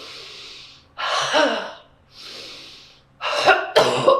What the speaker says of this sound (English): a deep breath of air, huff, and cough